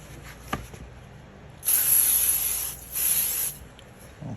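Two bursts from a marker airbrush spraying a stencil hiss sharply, the first about two seconds long, the second slightly shorter, close and loud against a quiet room.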